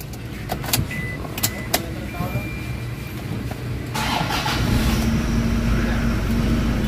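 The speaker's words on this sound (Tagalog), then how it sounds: "start the engine" A Toyota Fortuner with a low-power fault cranks and starts, then settles into a loud, rumbling idle after a few sharp clicks and some rattling; a voice is heard nearby.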